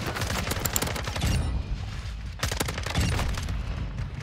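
Rapid FSS Hurricane submachine gun fire in Modern Warfare 2, two loud bursts of fast shots separated by a short pause.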